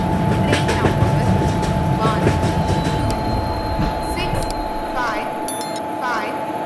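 Simulated train pulling into a platform in an Indian railway simulator game on an Andaman Express trip, a steady loud rumble of wheels and carriages throughout, with a sustained horn-like tone and bursts of platform announcement audio overlaid.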